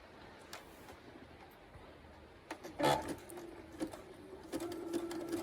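A sewing machine runs a 3-step zigzag stitch, length 1.8 and width 5, near the edge of knicker fabric. After a quiet start it whirs in short, fairly soft bursts that grow steadier toward the end.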